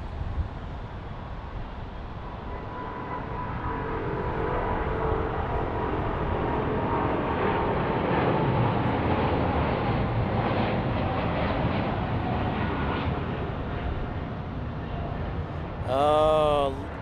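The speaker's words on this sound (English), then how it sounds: "listen to that magical sound of those big old engines" Loud, steady roar of big airliner jet engines at Minneapolis–St. Paul International Airport rumbling for several seconds, building and then holding, with a brief burst of faint chatter near the end.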